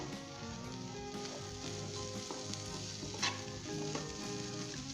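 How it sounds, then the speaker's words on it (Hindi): Egg, peas and carrot bhujia stir-fries over high heat, a close steady sizzle and crackle with occasional stirring scrapes and no talking. "मैंने अच्छे तरीके से इसे स्टर फ्राई कर लिए तेज़ आंच के ऊपर।"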